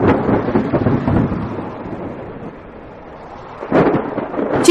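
Rolling thunder rumbles loud and close over steady rain, easing toward the middle before a fresh crack of thunder builds again near the end; no voices.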